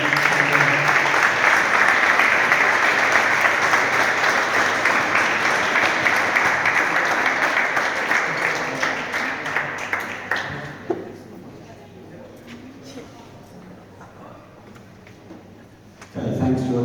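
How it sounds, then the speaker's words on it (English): Audience applause at a Manchester City football development programme graduation, loud sustained clapping from a crowd for about ten seconds that gradually thins and fades, then a brief renewed burst at the very end. "A big round of applause for Loan."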